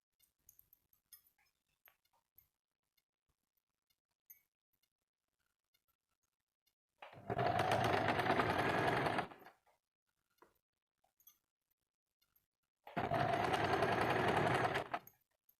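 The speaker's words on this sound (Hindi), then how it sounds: "यहाँ पे भी एक तरफ सिलाई कर देते हैं।" A sewing machine stitches one side of a frock in two bursts of steady, rapid whirring, each about two seconds long, separated by near silence with faint small clicks and handling noises.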